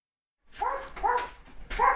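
A household dog barks three times in quick succession as it comes indoors with its owner, sharp, close yips following a moment of silence.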